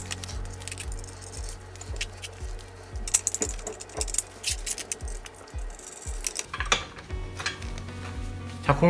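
A wrench ratchets in quick, close clicking bursts while nuts are tightened during assembly of an incline bench, with pauses and small metallic clinks between runs.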